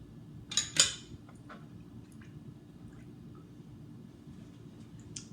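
Red wine vinegar being stirred with salt, pepper, a little hot sauce and garlic in a bowl, giving two close wet clinking splashes near the start, then faint scattered drips and taps.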